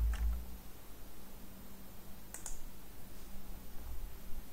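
Light clicks from a computer keyboard as CSS code is typed, a few sparse keystrokes standing out faintly against a steady low hum with no talking.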